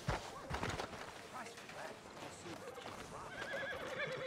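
A horse whinnies close by in Red Dead Redemption 2, followed by hoof clopping and soft ambient noise, with a voice speaking faintly underneath.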